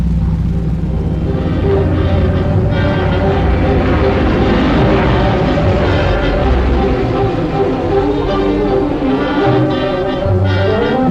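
RAF Typhoon fighter-bomber aircraft flying over Falaise, a loud, continuous droning engine rumble that holds steady throughout, mixed with other rumbling noise.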